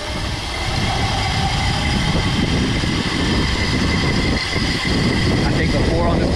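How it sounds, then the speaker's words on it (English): A Razor electric bike converted to 48 volts, its hub motor giving a steady whine with a broad rushing drone as it pulls away, loud and continuous throughout. "You can hear the motor want to whine a little bit off the start."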